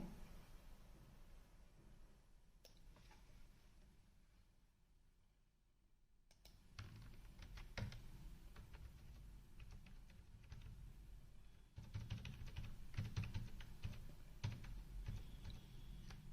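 Computer keyboard typing while entering data into an Excel attendance sheet, with clusters of soft key clicks throughout, busier and slightly louder near the end, over a low background hum.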